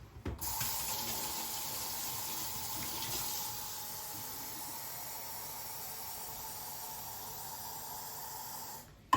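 Cold water running from a kitchen tap into a bowl for an apple and lemon soak, a steady close hiss and splash that holds from start to end with no talk over it.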